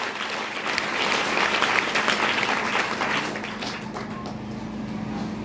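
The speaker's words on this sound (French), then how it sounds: "Est-ce que tu peux encore l'acclamer?" A church congregation applauding at an Easter service, a dense sustained wash of clapping that swells and then slowly thins, fairly loud and continuous.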